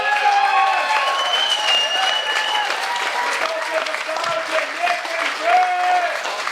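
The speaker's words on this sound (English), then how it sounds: "Come on, ladies and gentlemen, let's give it a applause" Wedding guests at a speeches reception applaud together, sustained clapping heard under music and cheering voices throughout.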